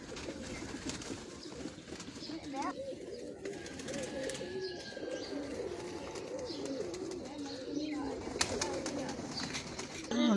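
Pigeons coo on a rooftop in a low, continuous burble that runs through the whole stretch, with scattered chirps and background noise mixed in.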